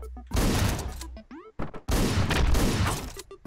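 Rapid gunfire bursts from the Hotline Miami video game, loud and close, in two dense volleys separated by a brief gap, with a short swooping tone between them.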